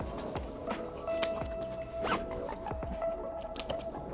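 A zipper on a windsurf racing sail's cam pocket, on a NeilPryde Evo XVI rig, being pulled closed in several short, rasping strokes at close range, with no talking over it.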